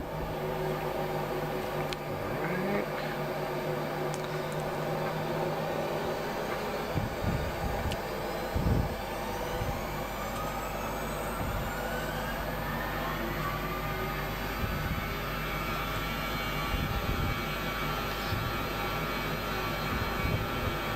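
Boeing 737 flight simulator engines roar steadily through a takeoff roll, a loud, unbroken rumble with rising whine tones and occasional thumps from the moving cabin.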